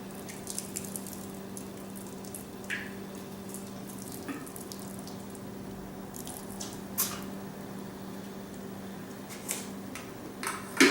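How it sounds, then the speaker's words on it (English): Water trickles gently over the soil of a worm bed, making quiet intermittent drips and soft splashes against a steady low hum, with no talking. "we're going to need to add quite a bit more water. So what I'm going to do is I'm just going to go ahead and trickle some in"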